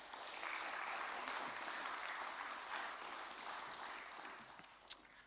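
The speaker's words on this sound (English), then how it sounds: "Big round of applause for them." Audience at a solo piping competition applauding in a concert venue, a steady wash of many hands clapping at moderate volume, fading slightly toward the end with one sharper clap.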